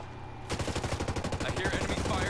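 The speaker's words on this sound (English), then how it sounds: "I hear enemy fire." Enemy gunfire in Tom Clancy's Ghost Recon Breakpoint, rapid automatic bursts of loud shots that start abruptly and continue steadily, with a voice faintly underneath.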